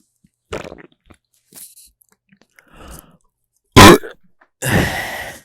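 A person gulps down ice water in a few short, separate swallows, then gives one loud, abrupt gulp and a longer, breathy exhale at the end, all close to the microphone.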